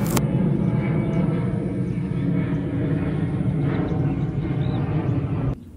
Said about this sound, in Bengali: মাঝে মাঝে আকাশে উড়ে যাওয়া কিছু বিমানের শব্দ